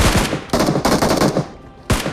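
Rapid automatic gunfire in a battle royale game during a firefight in a water city area, with loud close bursts of rattling shots, a brief pause, then another burst.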